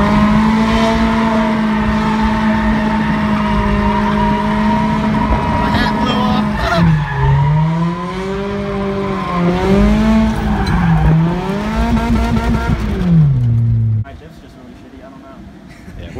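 Mazda Miata drifting around cones with a first-gear clutch kick, the engine droning high then wavering and dipping as it slides, tyres squealing, close by, with people talking over it before the engine noise suddenly drops.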